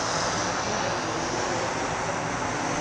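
A camera drone flies overhead, giving a loud, steady engine-like drone that holds unbroken throughout, with no voices.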